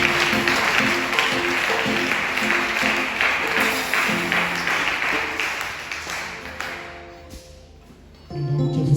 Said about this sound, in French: Acclamons pour le Seigneur Jésus.